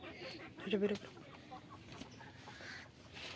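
Desi chickens on a farm, some hens sitting on eggs, give a short burst of soft clucking against a faint, quiet background.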